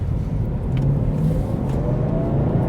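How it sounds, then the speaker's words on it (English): The engine of a 2024 Cadillac CT5-V Blackwing in V mode, a steady loud growl with a slight rise in revs, heard from inside the cabin without speech. "the engine definitely gets a lot louder in the V mode"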